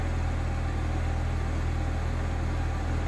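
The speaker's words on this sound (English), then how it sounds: "we're going to go ahead and turn on the blower" Steady, even whir of the blower motor fan in a 2011 Mini Cooper with the engine running, a constant low hum and airy hiss with no variation and no talk.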